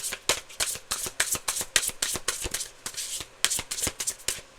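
Tarot cards are shuffled by hand in a quick, close run of crisp riffling bursts, a steady rhythm of sharp papery flicks with no talk.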